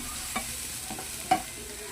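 Finely chopped onions frying in hot oil give a steady soft sizzle, with a few brief scraping stirs of a spoon against the pan.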